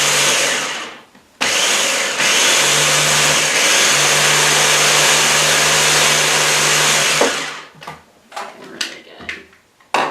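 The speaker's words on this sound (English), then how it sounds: "I find this blender easy to use too." A kitchen blender whirs loudly and steadily while blending pesto, running for about seven seconds before cutting off, followed by a few scattered clatters and bumps.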